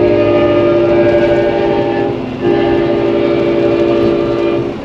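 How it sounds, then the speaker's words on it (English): An Amtrak passenger train passes in a snowy small town, a loud, continuous rumble with horn-like tonal drones that dip briefly midway, close by and uninterrupted by speech. "That'd be Amtrak right there going by."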